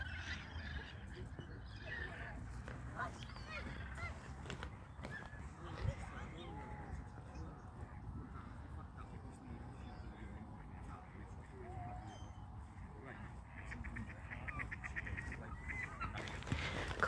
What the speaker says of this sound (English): Yeah, the geese and the swans getting fed over there.